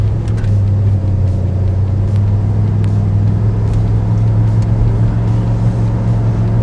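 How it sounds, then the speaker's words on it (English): A 1990 Chevy 454 SS pickup with its big V8 pulls hard away from a stop sign, a loud, steady low engine roar with deep rumble filling the whole stretch, no talking. "We just want to drive trucks real fast in a straight line, and that's what we're about to do at the old stop sign"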